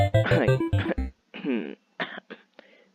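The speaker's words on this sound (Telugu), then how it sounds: "దగ్గుతున్నా అంతే, నో వరీస్." A person coughs hard a few times in a close burst, then gives several shorter, fainter coughs with brief pauses between them.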